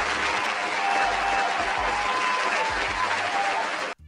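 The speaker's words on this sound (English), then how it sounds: "Let me give you another round of applause." A studio audience gives a loud, dense round of applause for a guest at the close of a talk show, sustained and even throughout, then cutting off abruptly at the end.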